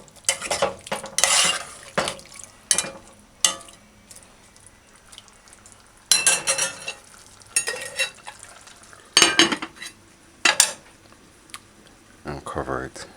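A spoon stirs ketchup through stewing tofu and beans in a pot on the stove, giving repeated scraping, clinking strokes in bursts against the pan, with speech between them.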